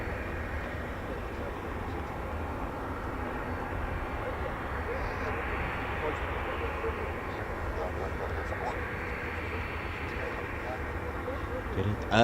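Military jet aircraft taxiing at RAF Leeming during an exercise, a steady broad engine roar and whine holding throughout at moderate distance, with no talk over it.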